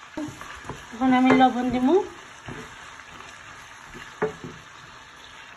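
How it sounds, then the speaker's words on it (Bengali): Onion frying in hot oil alongside koi fish, a soft crackling sizzle beneath a short spoken phrase, followed by a brief clatter and a quieter sizzle. "গরম তেলের মধ্যে এখন আমি ও পেঁয়াজটা রান্না দিলাম"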